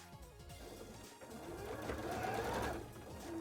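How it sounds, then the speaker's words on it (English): Sewing machine stitching a gauntlet, a steady mechanical whir running throughout and growing slightly louder toward the end, with no talking. "Sewing machines are funky"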